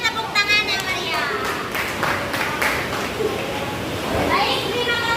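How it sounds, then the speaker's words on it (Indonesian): A school class joins in hearty hand-clapping during a classroom counselling session, with scattered claps mixed into lively children's chatter and voices that carry through the whole stretch. "berikan tepuk tangan yang meriah"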